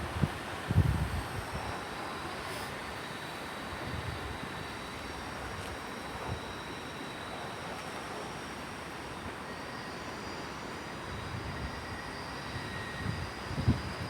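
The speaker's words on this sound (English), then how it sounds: "This is on the 1548 service to Portsmouth Harbour, originating London Waterloo, heading via Basingstoke and Eastleigh." A Class 444 electric train, unit 444-039, passes through Fareham station with a steady rumble of wheels and a faint squeal on the rails, continuous and fairly distant, with no talk.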